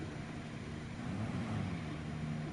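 Racing car engine in GT Sport after losing its turbo, a faint muffled drone that swells slightly and then dulls, steady and low with no talk.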